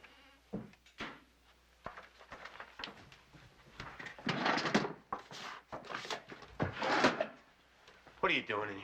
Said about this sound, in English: check the top drawer in my desk